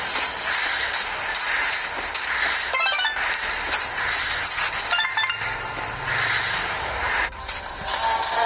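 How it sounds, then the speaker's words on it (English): Game train pulling into a station in a toy railway building game, a steady rolling rumble with light clinks and clicking wheel sounds and bright tonal chimes over a continuous background, no talk. "The train has arrived."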